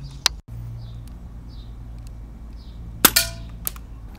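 Sig Sauer P226 KWC airsoft spring pistol firing BBs at a pan target, with two sharp, close snapping shots separated by a few seconds and a faint metallic ring after the second, over low background hum.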